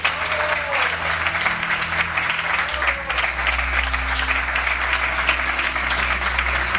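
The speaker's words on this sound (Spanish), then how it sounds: "los aplausos resonaron" Dense, steady audience applause fills an auditorium after a magic trick, loud and continuous from start to finish with no voices on top.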